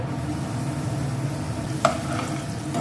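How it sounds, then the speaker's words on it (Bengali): A steady, even sizzle of chitol fish pieces frying in a pan, with one brief sharp click partway through. "এখন এগুলোকে একটু আমি লাল লাল করে ভেজে নেব"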